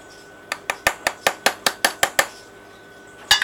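A spoon caked with chocolate from baking cookies knocks sharply about ten times in a quick, even rhythm against a hard surface, then pauses before a final pair of clinks, with no talk.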